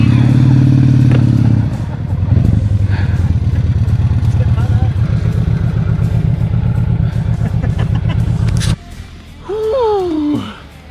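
Motorcycles, including a Ducati, Harley and Honda, chug along a sandy forest track in Pomerania, Poland, a loud close engine drone with shifting revs that cuts out near the end before a voice and more engine noise follow.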